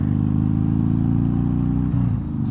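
A motorcycle engine drones steadily while riding, a loud, close, continuous rumble that holds a constant pitch before easing slightly near the end.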